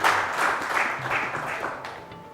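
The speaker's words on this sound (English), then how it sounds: "Let's give a huge round of applause to Shaq." Audience applause at a secondary schools quiz competition, a steady crowd clapping throughout, moderately loud and fairly close, with a faint voice in the background.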